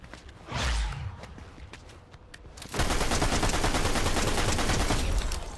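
Rapid SMG gunfire in the Fortnite video game, first as a short burst and then as a loud sustained stream of close, dense shots after a brief lull.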